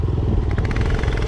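Motorcycles idle and rumble close by at a crowded bikers' gathering, a loud, dense engine throb with rapid pulsing and some clatter throughout the short moment.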